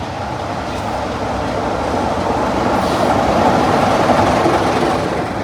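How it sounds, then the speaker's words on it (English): A Class 33 Crompton diesel locomotive, D6566, pulls into the main platform at Bishop's Lydeard on the West Somerset Railway, a loud, steady engine rumble and rolling rail noise that builds slightly as it draws near. "Here is Class 33 Crompton D6566 arriving into the main platform at Bishop's Lydeard"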